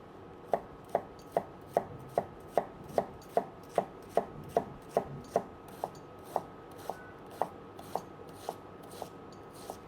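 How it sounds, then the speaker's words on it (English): An onion is chopped finely with a knife in brisk, even strokes, about twenty crisp, close chops at a steady rhythm that slows a little toward the end, with no talking. "So we want to cut our onion up nice and small"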